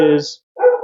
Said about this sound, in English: I apologize for my dogs, they're in the background there.